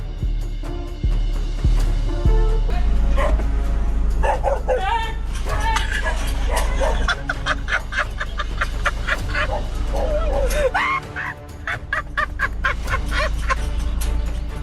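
A guard dog barks and yips repeatedly at an intruder breaking onto a property, loud bursts over a steady low hum, with brief whimpering and voices in the background.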